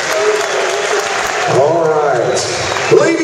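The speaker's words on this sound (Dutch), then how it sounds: "Geef Gerard een applaus" Loud, sustained audience applause fills an arena at a kickboxing fight event, with a voice speaking over the clapping partway through.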